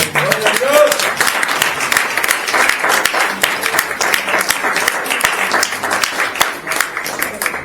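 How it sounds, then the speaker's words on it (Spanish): A church congregation claps loudly and steadily for the Lord during a Spanish-language sermon, a dense continuous wash of many hands with voices mixed in. "Dale fuerte palmas al Señor."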